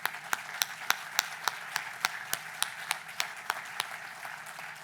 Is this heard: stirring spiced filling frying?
no